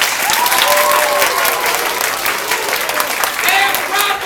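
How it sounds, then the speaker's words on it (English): An audience bursts into applause, a dense, loud wash of clapping sustained for several seconds, with some cheering or voices mixed in. "a round of applause for your second place team"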